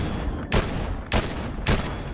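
Gunfire in Fortnite: three loud, broadband bursts of shots roughly every half second to second, each short and sharp, over a steady background of game ambience.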